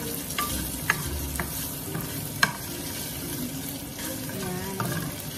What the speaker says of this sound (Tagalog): Wait natin siya ma-fry ng konti.